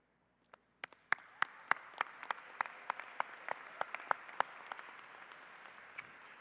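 Sparse applause from a small group at Virginia State University's fall 2025 commencement ceremony, starting with a few distinct, sharp claps and building into lighter, scattered clapping that thins out toward the end.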